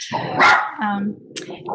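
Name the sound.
dog barking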